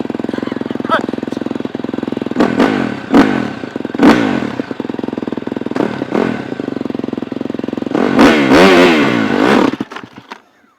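A motorcycle engine that isn't running right chugs loudly up close with a rough, uneven throb, surging in bursts and swelling toward the end before dying away.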